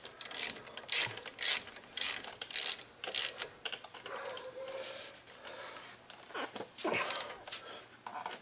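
A hand ratchet tightens brake bolts on a 2007 Ford Explorer XLT during a front and rear brake job, with several bursts of rapid pawl clicking close by, then quieter, irregular ratcheting.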